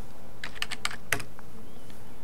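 Computer keyboard typing while entering data into a lab sample spreadsheet: a few separate, quick key clicks in a short burst, fairly close and clear in a quiet room, with no talking.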